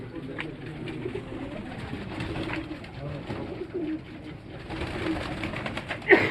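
Salkoti pigeon cooing, a soft low repeated coo close by, with someone talking over it.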